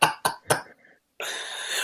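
A person coughs three times in quick, sharp bursts close up, followed by a short pause and then a steady hiss of room noise.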